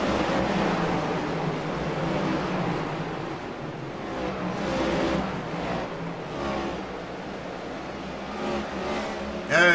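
Stock cars race around the short oval at North Wilkesboro, a continuous droning roar of engines with swelling passes as the pack goes by, steady and loud throughout.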